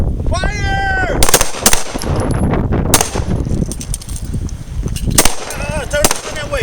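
Pistol gunshots at a self-defense shooting range, several sharp loud cracks spaced a second or more apart, mixed with an instructor's shouted commands and other voices nearby.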